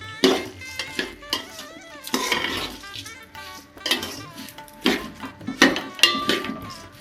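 Rice gets stirred with oil and spices in a metal pot for Bengali basanti pulao, the spoon scraping and clinking against the pot in repeated strokes, close by, with a light sizzle underneath.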